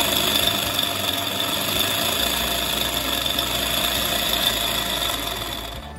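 An American Flyer toy train tender's smoke unit motor runs with a loud, continuous mechanical racket and buzzing whine, steady and close throughout, fading slightly at the end; no talk.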